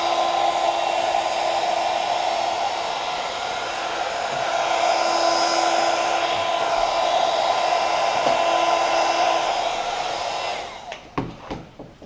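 A heat gun blows a steady, loud, broadband hiss while warming carbon wrap film on a lump, running continuously for about eleven seconds before cutting off into a few faint clicks and handling knocks.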